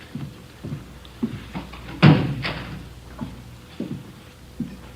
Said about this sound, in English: Would you close the door, Friday?